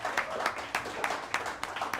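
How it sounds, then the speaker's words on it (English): Scattered applause from a small audience at a live legislative debrief event, a light patter of individual claps with distinct sharp hits rather than a full roar. "your applause really helps me"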